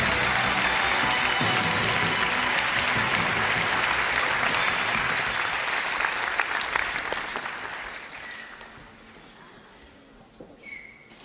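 An audience applauds Shaolin monks after a performance, dense loud clapping with a few whistles that holds steady for several seconds, then thins and fades to scattered claps near the end.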